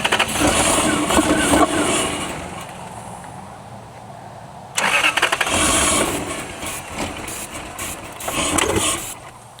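A 10-year-abandoned Lexus LS400 engine cranks on starting fluid in two loud, close bursts, catching roughly and revving unevenly, separated by a brief drop in sound.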